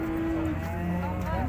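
A large cow, under two years old and the biggest at the Urzhar cattle market, gives a long, steady, close moo that drones on with little change in pitch.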